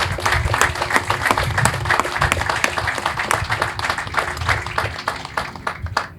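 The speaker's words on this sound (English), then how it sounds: "So if you all could join me in a round of applause for this great Coast Guard family." Audience applause rings out at a Coast Guard change of command ceremony, a steady crowd of hands clapping close and loud, with a few individual claps standing out, tapering at the end.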